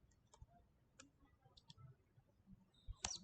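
Computer keyboard typing of a network command during a GNS3 internet connection simulation, a handful of sparse, faint key clicks ending in a sharper final keystroke.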